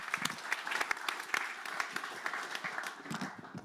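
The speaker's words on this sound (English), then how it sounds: "Round of applause, yeah." Audience applause after a lecture in a hall, a dense spread of claps at moderate level that thins and softens toward the end.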